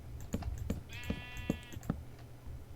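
Sheep bleat in the Minecraft Pixelmon mod, one drawn-out electronic bleat in the middle, ringing over a steady run of soft keyboard taps and low background hum.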